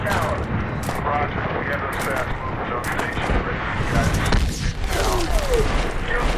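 Dense, continuous battle noise from the video game Medal of Honor (2010), during an attack on a Taliban airfield, with bursts of gunfire, RPG rockets and booming blasts, loud and close, with a voice talking over it.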